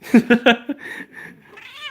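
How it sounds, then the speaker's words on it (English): Lucky the cat lets out three quick, close meows, then a shorter one, followed by a few softer, drawn-out calls. "Lucky comes up and meows constantly"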